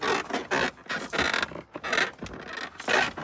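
Repeated high-pitched squeaks and creaks from a 2017 Ford pickup's suspension come in rhythmic bursts with each bounce while driving, close and fairly loud.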